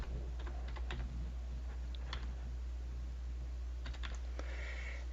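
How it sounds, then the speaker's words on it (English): Typing on a computer keyboard while entering task descriptions into project scheduling software, a steady run of soft, close key clicks with short pauses and no talking. "Let's type in 2 descriptions."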